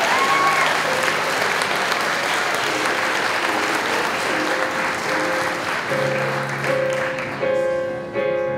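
Sustained audience applause fills an awards ceremony hall, dense and steady, with a few tonal sounds emerging near the end as the clapping thins.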